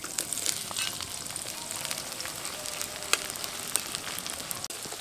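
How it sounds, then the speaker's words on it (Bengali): Chopped onion fries in hot oil and ghee for a Kashmiri chicken kanti: a steady, close sizzle full of fine crackles and pops, with no voices. "পেঁয়াজটা একটু তাড়াতাড়ি ভাজা হয়ে যাবে"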